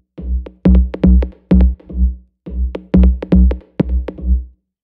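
Delayed bass from a remix produced in Ableton, with the delay switched on and off: loud, bouncy clusters of punchy notes in two phrases separated by a short gap, with no voices over it.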